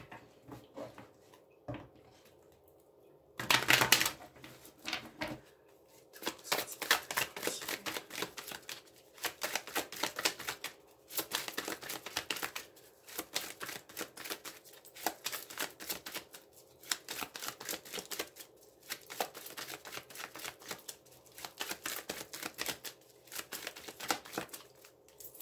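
Tarot cards are shuffled for a reading in a quiet room, with a sharp riffle early on and then long stretches of quick, papery flicking and slapping at close range, with no speech.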